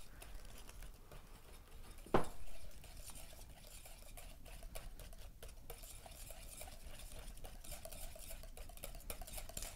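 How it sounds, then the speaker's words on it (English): A utensil stirs a cream cheese mixture in a bowl to work out the lumps, a faint, continuous scraping and patter with one sharp clink early on. "you're going to make sure that you get all of the lumps out from the cream cheese"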